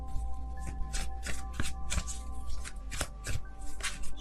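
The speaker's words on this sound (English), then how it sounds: "I'm just gonna wait until it feels right and then take out all of the cards at once." A deck of tarot cards shuffled close up, with quick, crisp riffling bursts repeating at a steady pace and no talking.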